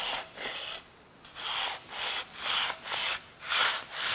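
Sandpaper rubs back and forth over a painted metal machinery tag in about seven steady rasping strokes, close and fairly quiet, with no talk.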